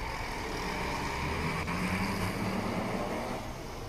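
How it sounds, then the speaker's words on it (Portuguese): A Volkswagen Beetle race car in the Copa Fusca series roars around the track, heard as a steady, loud engine drone from a distance at trackside with no talk. "E fala alto esse motor"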